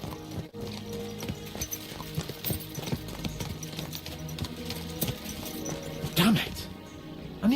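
Horses' hooves clip-clop along in Kingdom Come Deliverance 2, a steady galloping patter under continuous in-game music and a voice speaking, with a brief whinny-like rise near the end.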